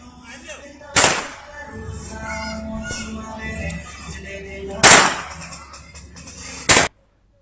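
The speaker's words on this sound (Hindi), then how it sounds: "दूसरा युवक भी बंदूक लेकर वहां पहुंचता है और हवा में फायरिंग शुरू कर देता है।" Three sharp, loud gunshots fired into the air at uneven intervals over a murmuring crowd and background voices, the last one cutting off abruptly.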